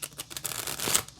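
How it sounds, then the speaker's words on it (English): A new, stiff tarot card deck is shuffled in one short, crackling riffle that builds to a snappy burst of flicking cards, close by. "Let's give it a couple of shuffles."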